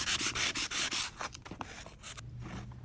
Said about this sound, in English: I'm just going to grab some of my sandpaper and then sand down some of these rough edges